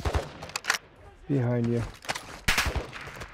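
Gunshots ring out in a video game firefight as sharp isolated cracks and short bursts, close and loud, interleaved with a spoken callout.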